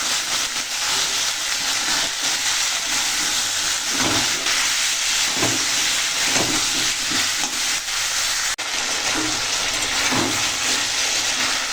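Sweet pumpkin pieces stir-frying in a pan with turmeric, chilli powder and salt, giving a steady close sizzle throughout with occasional stirring scrapes and no talking.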